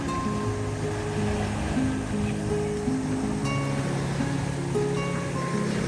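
Sea waves wash in a continuous low roar at the seaside, heard at moderate distance with steady surf noise and faint tonal hums from distant engines or boats in the background.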